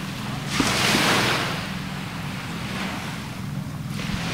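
Ocean waves at 69 Beach in Hawaii, a broad wash of surf that swells and fades, mixed with wind noise on the microphone.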